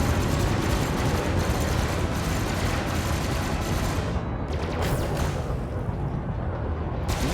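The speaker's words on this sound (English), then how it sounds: "Most of my shots are still going on target." Weapons on a Fer-de-Lance ship in Elite: Dangerous fire in a dense, continuous roar of rapid blasts, loud and unbroken, easing briefly before resuming.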